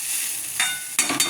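A spoon stirs poha in a hot pan with a steady sizzle and a few louder scrapes near the end, close and without talk.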